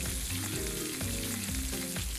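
Finely chopped red onion fries in a little oil, a dense continuous sizzle heard up close, with short stirring scrapes now and then and no voices.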